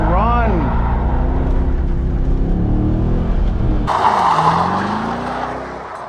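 A Corvette C5 spinning donuts as it heads into a grip-driving run, its engine droning loud and close while the tires squeal and skid continuously, then a sharper burst of screeching noise near the end.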